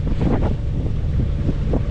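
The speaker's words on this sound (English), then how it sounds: "Got more wind here than we've seen" Steady wind buffets a sailboat as it comes into Isthmus Cove at Two Harbors, a continuous loud rumble with soft gusts and faint water sounds and no voices.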